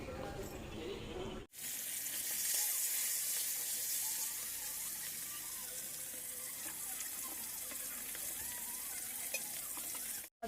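Black cumin seeds, onion, green chili and eggplant fry in hot oil for a Bengali fish curry, giving a steady, loud broadband sizzle after a brief quiet start, with faint clinks and stirring underneath.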